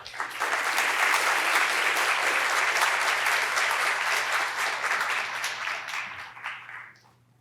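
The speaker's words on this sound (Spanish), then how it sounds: "Démosle la bienvenida a Carlos con un fuerte aplauso" Steady applause from a seated audience at an economics lecture event, welcoming a guest economist to the stage; dense, even clapping that holds for about six seconds, then thins out and fades.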